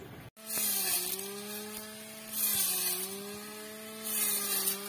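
Modified cordless 21-volt grass trimmer motor runs at high speed, a steady whining drone with bright harmonics and a gritty buzz, close and loud throughout after a brief start.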